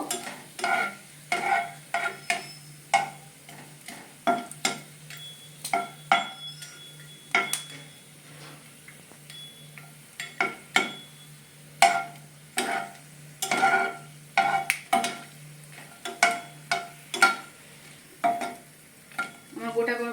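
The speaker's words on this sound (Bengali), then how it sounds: "পনিরগুলো দিয়ে গোটা গরম মশলাটা একটু সর্টে করে নিই" Whole garam masala sautés in a pan, heard as a rhythmic series of spatula scrapes and taps against the metal over a faint sizzle and a low steady hum.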